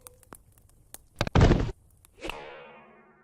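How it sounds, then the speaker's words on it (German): A firecracker set off indoors in a living room: a few light taps, then a sharp loud bang with a brief roaring burst, followed by a ringing, decaying rattle, with no talking. "Oh, schnell den Knaller anzünden."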